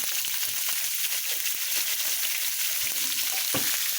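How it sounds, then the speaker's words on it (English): Taco ingredients fry in hot canola oil with a loud, steady, close sizzle, broken by light clicks and scrapes as they are stirred and turned to brown on all sides; no speech. "you dump the ingredients in the oil, and you're just going to brown it"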